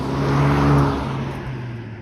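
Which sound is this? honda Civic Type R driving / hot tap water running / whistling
honda Civic Type R driving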